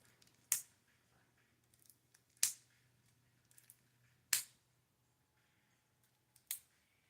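A Final Fantasy trading card game pack being opened: four sharp, crisp snaps or tears spaced about two seconds apart, close and fairly quiet, with near silence between them.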